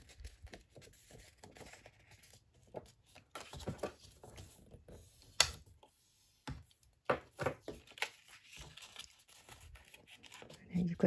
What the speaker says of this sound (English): Fold over my tabs.